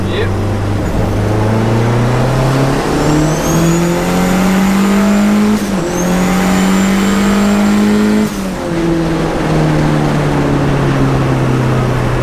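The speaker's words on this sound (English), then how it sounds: "Third gear pop." Bonnet-modified small car under live engine mapping, revving hard through the gears with rising engine tones, a brief gap at the third-gear change and an audible pop, loud and close throughout.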